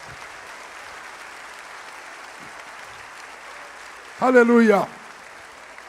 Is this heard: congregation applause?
yes